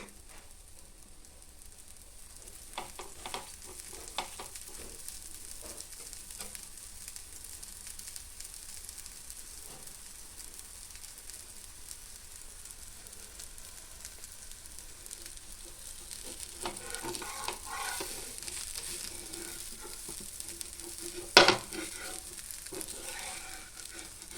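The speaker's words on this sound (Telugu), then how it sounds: "పెసరట్టు కొంచెం కాలినాక అందులో కొంచెం ఆనియన్స్ పచ్చిమిర్చి చీలికలు వేసి లైట్గా కాల్చుకోవాలి" Pesarattu with onions and green chilli slices frying in oil on a pan, a faint steady sizzle running throughout with a few soft scraping touches, no voices.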